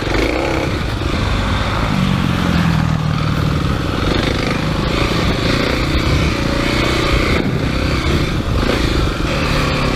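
Kawasaki KLX300 dirt bike engine on a trail ride at Highland Park Resort, loud and steady from the rider's position, with constant revving and clattering and no pause.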